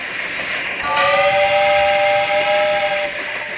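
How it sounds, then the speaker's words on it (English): A steam train on a mountain line sounds a long, steady multi-tone whistle that starts after a brief hiss and holds loud and close to the end, over a constant background of steam hiss, with no voices. "The train slowly chugs down the mountain."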